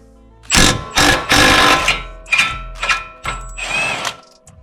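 Impact wrench loosening a 22 mm front lower control arm bolt on an Infiniti G35 / Nissan 350Z, heard as several loud, close bursts of hammering whir with short pauses between them, no talk.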